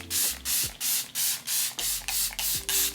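Rapid bursts of Charlotte Tilbury Airbrush Flawless makeup setting spray, about nine quick pumps in a steady rhythm, close and hissy.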